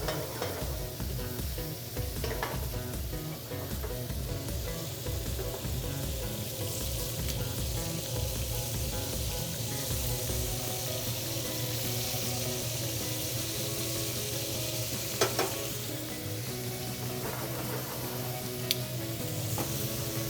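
Thick pork fillet sears and caramelizes in a hot pan, a steady close sizzle and crackle running throughout with occasional stirring clinks and scrapes, no voices.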